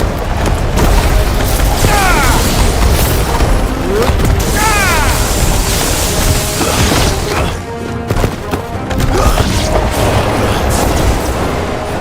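Fire spell explosions in the video game Final Fantasy XVI: loud, continuous booming blasts and crackling impacts with whooshing effects, dense and chaotic over a sustained stretch of battle.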